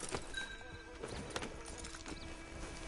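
Horse hooves clip-clop in Red Dead Redemption 2, a quick irregular run of hollow knocks mixed with light neighing, fairly quiet and alone without speech.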